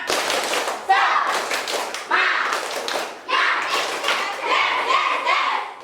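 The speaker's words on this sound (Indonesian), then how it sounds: "Supaya semangat, kita tepuk semangat dulu." Schoolchildren in a classroom clap a patterned tepuk semangat chant, with bursts of rhythmic clapping in grouped phrases and children's voices mixed in, fairly close and lively.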